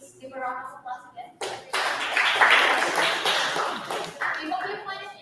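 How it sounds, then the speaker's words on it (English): An audience at a PyCon APAC 2024 conference session claps for a presenter, a burst of moderate applause rising after a spoken thank-you and fading out, with a voice talking before and after. "please give a round of applause again."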